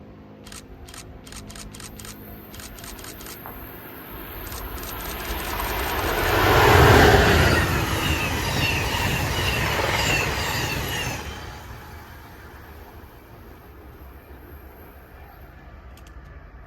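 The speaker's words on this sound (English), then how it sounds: "Another Northeast Regional is seen heading southbound behind the one with the Metroliner, but this time it's an ACS 64 on the point" An Amtrak Northeast Regional train led by an ACS-64 electric locomotive passes southbound in central New Jersey, a broad rushing roar that swells to a loud peak mid-pass and then fades, with faint high whine trailing off.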